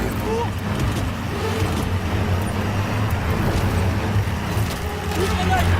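A vehicle drives along a road in Call of Duty WWII, a steady low engine rumble and road noise running continuously at even loudness, with voices talking over it.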